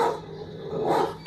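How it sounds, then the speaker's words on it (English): A dog barks in a few loud, close bursts: one at the start, another a moment later and a sharp final bark at the very end, with quieter gaps between. "Oh, it's another dog."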